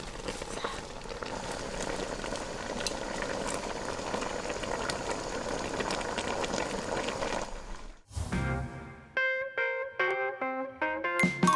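Spicy braised angler fish bubbling in a large pot, a steady dense boil for about eight seconds, then it cuts to a run of sharp clinks and taps, close and fairly loud.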